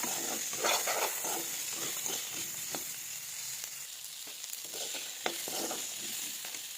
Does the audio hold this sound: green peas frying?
yes